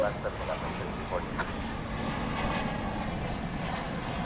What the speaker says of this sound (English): American 2157 coming in from Houston Intercontinental. It's an Airbus A319.